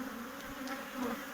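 Honeybees buzzing around an opened hive during a swarm collection, a steady droning hum with several nearby passes rising slightly in loudness, no talk.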